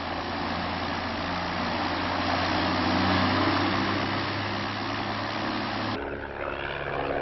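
A propeller airplane engine drones loud and steady from close by during a barrel roll, its tone holding even before shifting near the end.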